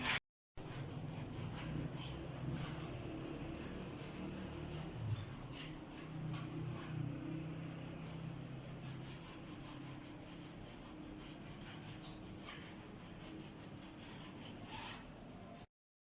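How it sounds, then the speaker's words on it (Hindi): Old paint is scraped off an old, previously painted plastered wall before house painting: a steady, continuous rasping that runs for about fifteen seconds at moderate, close level, with no one speaking. "इसकी ग्राउंड बनाने के लिए ये पेंट उतारना है"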